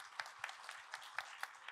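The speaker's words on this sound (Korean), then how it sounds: "좋은 영화 나올 수 있도록 뜨거운 격려의 박수 좀 부탁드리겠습니다" Audience applause after a request for warm encouragement at a live youth peace-radio session, a quiet, distant patter of many hands with a few sharper claps standing out at a fairly steady pace.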